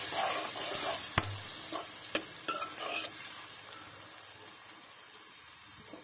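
Chopped tomatoes are stirred into a taro (arbi) masala curry in a pan, with repeated scraping spoon strokes and a few sharp knocks over a soft, steady sizzle.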